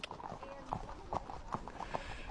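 Horses' hooves clip-clop at a steady walking rhythm during a foxhunt, quiet and close, with people talking over the hoofbeats.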